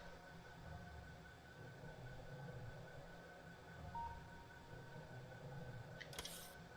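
A train in the Factorio video game gives off a low, steady rumbling hum at a quiet, even level, with a short higher clatter near the end.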